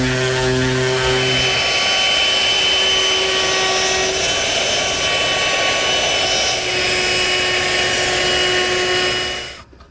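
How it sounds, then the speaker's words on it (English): Power sander smoothing a wooden library ladder frame in a workshop, a loud, steady whine with a shifting pitch that runs continuously and then stops near the end. "Now's the time to sand it smooth and ease the corners."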